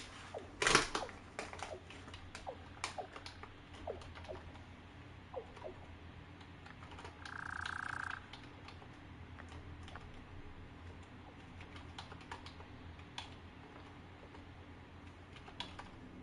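Computer keyboard typing during a Satisfactory gaming session: scattered, irregular key clicks at a moderate distance over a low background hum, with one louder burst near the start and no talking.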